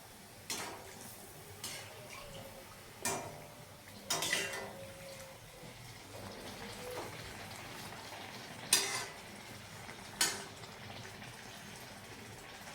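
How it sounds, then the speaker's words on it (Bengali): Banana malpua batter frying in a pan, a soft steady sizzle running underneath, with occasional sharp clinks and scrapes of a utensil against the pan, fairly quiet and close. "এইভাবে আমি সবগুলো ভাজবো।"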